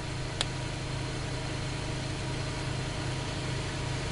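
A homemade U-core dynamo generator hums steadily at high RPM, a continuous close mechanical drone with an even buzzing tone and one tiny click near the start.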